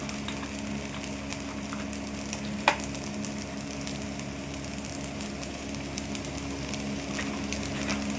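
Chicken fried rice stir-frying with soy sauce and vinegar hisses in a low, even sizzle throughout, with faint stirring and one brief knock against the pan.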